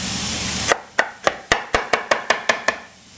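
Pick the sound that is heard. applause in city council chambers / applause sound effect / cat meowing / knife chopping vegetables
knife chopping vegetables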